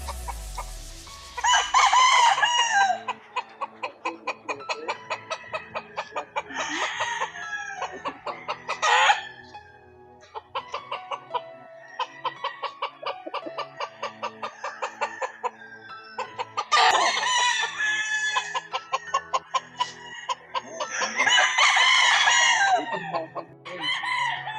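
Firebird gamefowl bull stags, ten months old, crowing repeatedly with clucking between calls, several crows from nearby birds sounding loud and clear over a quiet background.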